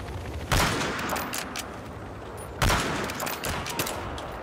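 Two sharp, loud gunshots spaced about two seconds apart, each followed by a brief echoing tail, from a sniper rifle in the video game Battlefield Hardline.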